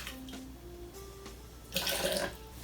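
Hot water splashes briefly over a bamboo matcha whisk in a bowl, a short bright gush in the second half after quiet handling clinks, close and without talking.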